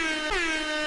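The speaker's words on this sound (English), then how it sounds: "gotta put that air horn out there" A loud, blaring air horn sound effect sounds alone for about a second, its steady multi-toned blast bending briefly in pitch partway through.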